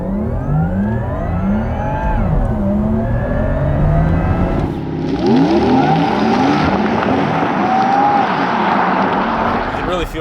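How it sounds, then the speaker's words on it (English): A 2022 Porsche Taycan GTS Sport Turismo accelerates hard with a rising electric whine that climbs, drops at a shift of its 2-speed transmission, then climbs again over road and wind noise. "No talkie, electric sports sound only."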